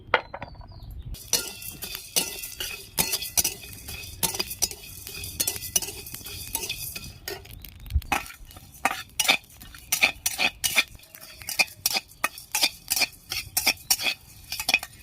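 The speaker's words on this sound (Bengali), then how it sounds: "আমি এবার সব মশলাগুলো একসাথে ভেজে নিচ্ছি" Whole spices frying together in a kadai, stirred with a metal utensil: close, repeated clinks and scrapes against the pan in an uneven rhythm over a faint background, with no talking.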